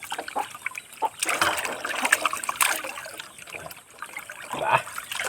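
Water is poured into a cooking pot, a faint, uneven trickling and splashing that swells and fades in bursts, with light ambient noise around it.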